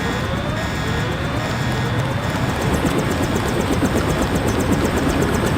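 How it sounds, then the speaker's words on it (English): Steady helicopter engine drone with a rotor hum in the Deus Ex video game, continuous and fairly loud throughout with no talking. "Take the helicopter back to base."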